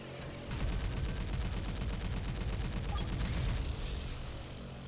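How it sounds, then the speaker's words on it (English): Rapid bursts of gunfire from a plane's gun turret in the James Bond 007: Nightfire video game, a dense rattling volley that starts suddenly and continues for several seconds before cutting off. "Why would you design this plane with a gun turret that doesn't turn all the way around?"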